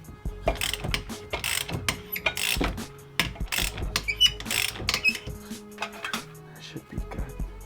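A wrench ratchets in quick clicking runs while tightening a wheel stud on a 2015 Subaru WRX STI, close and crisp, with people talking in between.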